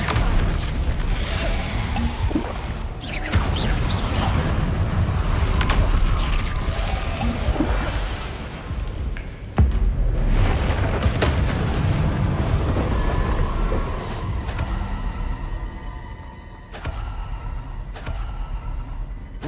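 Confringo blasting spell explosions in a wizarding video game, heavy rumbling booms and roaring blasts filling most of the stretch, dropping to quieter crackles and brief bursts near the end.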